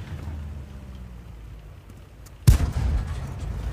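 A single loud tank gun shot from an SU-76M firing armor-piercing rounds in World of Tanks, a sharp blast at mid-clip followed by a rumbling tail over low engine hum.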